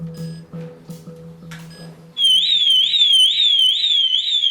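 A home burglar alarm is tested in a kitchen: a few clunks and taps, then a loud piercing siren bursts in, warbling rapidly up and down and holding steady at high volume.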